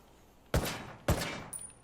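Two loud sniper rifle shots from Ghost Recon Wildlands, fired about half a second apart on a test range, each a sharp crack trailing into a long echoing decay, with a faint metallic tick after the second.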